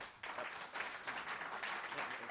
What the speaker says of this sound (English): I'm sorry, we don't do applause.